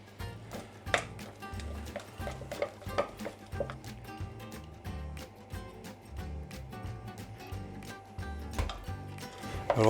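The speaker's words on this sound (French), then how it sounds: "Donc ça on va le travailler à la spatule" A spatula works a mixture of soft cheese loosened with a little cream in a bowl, making a run of quiet scraping taps and light clicks in an uneven rhythm, close and soft with no talking.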